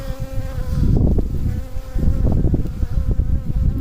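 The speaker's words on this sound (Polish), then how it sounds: "Pszczółka już się interesuje telefonem." Honeybees swarm close around a beehive, their dense, continuous buzzing loud and steady throughout, with swells as individual bees pass near.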